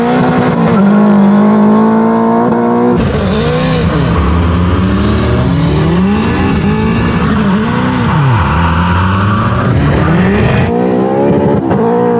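An all-wheel-drive sleeper Honda Civic and a second-generation Dodge Viper launch in a drag race on no-prep tarmac. Loud close engines rev and rise in pitch through sweeping gear changes, with wide roaring bursts and shifting harmonics over twelve seconds.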